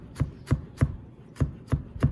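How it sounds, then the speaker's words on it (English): Fresh ginger being sliced into fine julienne strips on a board for an Ayurvedic throat lozenge: six crisp, close knife strokes land at an even, steady rhythm with short pauses between them. "you can make them into juliennes also, which is cutting the slices very"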